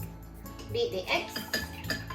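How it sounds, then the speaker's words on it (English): Eggs are beaten in a bowl with a utensil, giving a short burst of quick, close clinks and scrapes against the bowl. "Beat the eggs."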